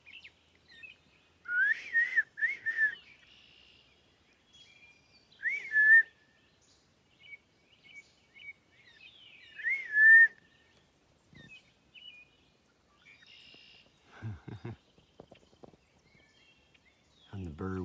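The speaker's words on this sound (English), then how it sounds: "you got these ones in the background over here in the woods. Fucking whistling it up as loud as fuck." Birds whistling in the woods, loud rising whistled calls repeated at intervals from nearby trees, with someone talking intermittently over them and some rustling.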